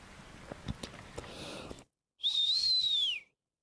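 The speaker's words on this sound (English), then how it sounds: "I didn't like that whistle." A single clear whistle in Ozark mountain woods, a sustained high tone that rises slightly and then falls, heard alone after a stretch of faint clicks and rustling.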